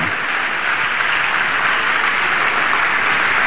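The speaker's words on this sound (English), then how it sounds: "Can we just give the Lord a round of applause to welcome Mommy?" Loud, sustained applause from a large congregation at a church birthday public lecture, a dense wash of clapping hands that holds steady throughout.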